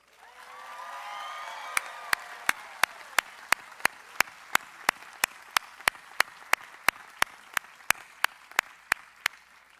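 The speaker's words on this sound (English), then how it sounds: "I'd like to start officially with a huge round of applause to kick off our ceremony" A large crowd applauds at a 2022 commencement ceremony in a sustained wash of clapping and cheering, with a regular series of sharp loud beats like drum hits cutting through it.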